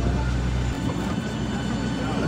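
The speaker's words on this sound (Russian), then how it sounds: "Сразу садятся два самолета, и поэтому много людей." Two airplanes landing at once, a steady, heavy jet roar that fills the whole stretch without a break, with faint crowd voices mixed in.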